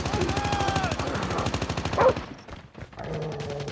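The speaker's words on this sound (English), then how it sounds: "Sentry gun deployed." Automatic sentry gun fire in a first-person military shooter, rapid steady bursts of gunfire dominating the first two seconds, then a brief lull before more distant shooting and game sounds return.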